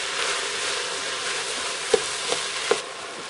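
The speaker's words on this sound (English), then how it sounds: "I'm going to fry this in with the sausage for a few minutes until it starts to get tender" Carrots, onion and garlic frying with sausage in a pressure cooker give a steady, soft sizzling hiss, broken by a few faint clicks of stirring near the end.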